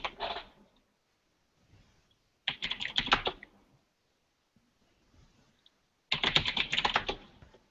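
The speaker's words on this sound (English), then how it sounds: "That's the sound of some furious Googling." Fast, furious typing on a computer keyboard in three quick bursts separated by quiet pauses, close and fairly soft, with no talking.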